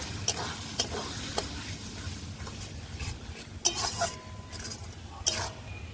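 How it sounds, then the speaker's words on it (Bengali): Spices with salt, turmeric powder and chopped tomato being sautéed and stirred in a pan for chicken chana masala: a steady sizzle under repeated scraping stirs, with sharp metallic clinks of the spoon against the pan. "স্বাদ মতন নুন, হলুদ গুঁড়ো, সবকিছু একসঙ্গে ভালো করে কষিয়ে নেব।"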